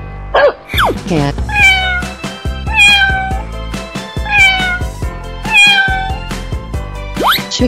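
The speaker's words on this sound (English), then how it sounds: "Cat." Loud, close meows from a cartoon cat come in a steady series of drawn-out, rising and falling calls.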